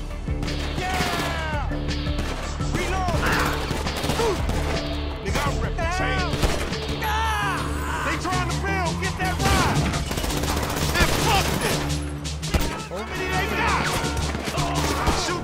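Heavy video-game gunfire in GTA V on PS3, with constant fusillades, smashing crashes and scattered shots layered over a loud, busy action scene that runs throughout without clear speech.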